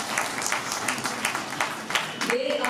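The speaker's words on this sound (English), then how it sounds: "A huge round of applause for these students." An audience at an international college seminar applauds a group of students with scattered, moderately distant clapping that rises and dips in uneven bursts, and a voice is briefly heard near the end.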